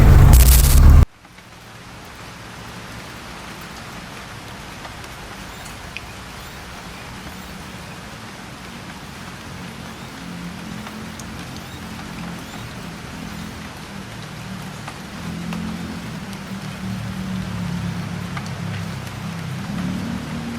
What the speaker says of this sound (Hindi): यहाँ पे बारिश बहुत तेज़ लगी हुई है